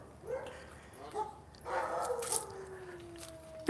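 A leashed dog gives a few short barks and a high, drawn-out whine, fairly close and moderately loud, with some background noise.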